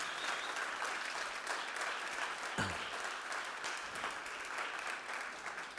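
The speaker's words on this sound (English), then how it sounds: "Big applause for our team of volunteers" A room full of people clapping continuously at a startup conference in Barcelona, an even, dense wash of applause with one brief low thump partway through.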